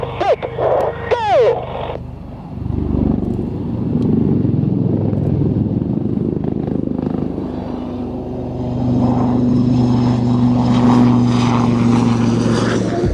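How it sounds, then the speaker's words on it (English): Propeller aircraft departing at an air show, a steady droning engine roar building up and holding loud and near after a brief burst of crowd or announcer noise at the start. "And then now to the aircraft departing with a... Brake, go!"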